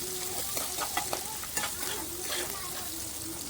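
Onions and green chillies fry in a pan with a constant close sizzle and hiss, broken by soft intermittent scrapes and taps from a stirring spoon.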